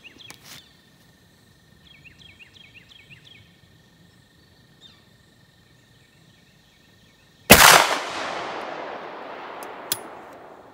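Single 24 gauge shotgun slug fired at an outdoor range, one sharp loud blast late in the clip with a long fading echo, after quiet electronic beeps and faint ambient noise.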